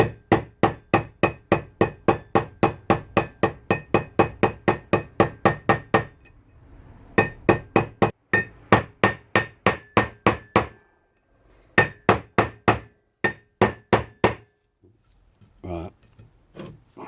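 A hammer taps a wheel bearing into the hub of a Mk3 Volkswagen Golf in rapid, even metallic strikes, pausing briefly between bursts, close and clear; a voice speaks faintly among the taps.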